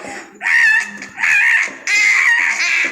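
A child imitates a crow's call, three loud, drawn-out screeching cries in a row with short breaks between them.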